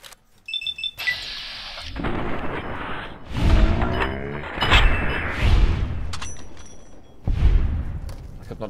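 Gunfire in the game Fallout New Vegas: a string of loud booming shots and rattling bursts spread across the clip, mixed with other game sounds.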